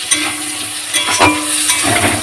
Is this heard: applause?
no